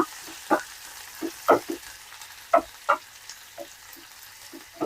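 Onions frying in a pan for egg biryani, a soft steady sizzle under a series of sharp, separate clacks from stirring or a spoon against the pan, close up, with no talking.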